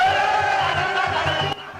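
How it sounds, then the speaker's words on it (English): Massive crowd cheering at NPP party headquarters during a flagbearer nomination: a steady, dense roar with droning horn-like tones, fading slightly at the end. "The massive crowd cheered as he came with a message of hope for all."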